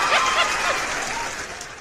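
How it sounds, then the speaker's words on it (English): Clapping breaks out on a casual podcast recording, a short burst of claps mixed with chuckles and murmured voices, trailing off quickly. "Let me clap it up for that."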